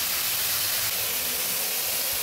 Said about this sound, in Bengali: আর একটু ভেজে নিচ্ছি।